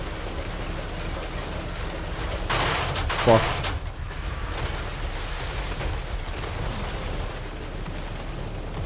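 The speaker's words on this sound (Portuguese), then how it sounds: "E eu continuo atirando no Nekai sem parar. Cada tiro tipo causa uns 20 de dano." Drone gunfire rattles through a Total War: Warhammer III battle, a continuous crackling barrage with a louder volley burst near the middle, set against dense battlefield din.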